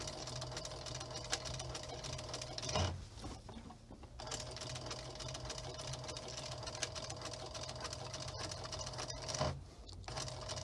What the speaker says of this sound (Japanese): これウォーキングフットミシンって呼んだりするのよ、海外ではね。